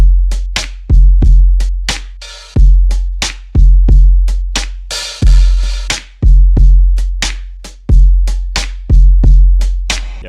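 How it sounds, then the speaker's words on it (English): A chopped and rearranged drum loop from a Russian jazz ensemble sample plays loud and close, heavy kicks in a repeating pattern layered with sharp snare and hi-hat hits and a few longer cymbal washes, with no talking. "drums that I chopped up sound like this"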